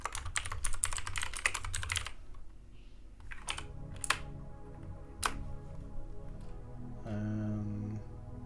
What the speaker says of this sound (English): that was triggering as I was typing then